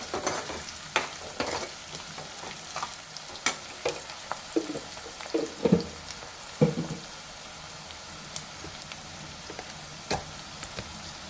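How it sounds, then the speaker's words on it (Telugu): Turmeric is stirred into softened frying onions for mutton curry, a soft steady sizzle broken by intermittent scrapes and taps of a spoon against the pan, close-up with no talking. "ఆనియన్స్ అయితే మగ్గిపోయాయి తీసుకుని పసుపు అయితే వేసుకుంటున్నాను మంచిగా కలుపుకోవాలి"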